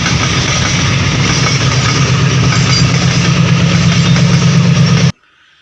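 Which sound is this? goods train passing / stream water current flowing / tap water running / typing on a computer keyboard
goods train passing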